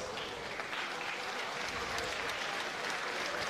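Steady applause from the audience at a live fight event honoring both fighters after a first-round triangle choke finish, a dense even wash of clapping with no gaps.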